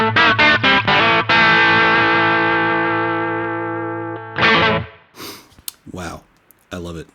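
Electric guitar through a MayFly Creamsicle Overdrive pedal, modeled on a Marshall JCM 45, plays loud, distorted chords: a few quick stabs, then one long sustained chord fading out, another hit, and scattered short picked notes.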